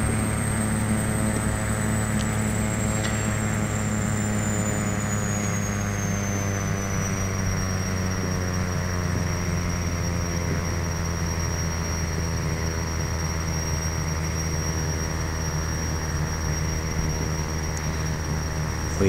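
A Piper Malibu propeller aircraft landing in the video game Flight Simulator X, its steady engine drone close and continuous with layered tones, while a high whine slowly drops in pitch partway through.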